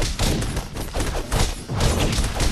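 Bomb blasts in the co-op brawler Castle Crashers, a dense run of loud, booming thuds and crackling bursts packed close together over a couple of seconds, with game noise filling the background.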